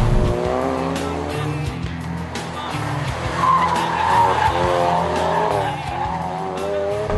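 A 2016 Ford Focus RS in drift mode slides with tires squealing in long wavering howls over a steady engine roar, loud and close throughout.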